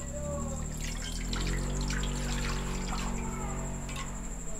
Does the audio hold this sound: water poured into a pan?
yes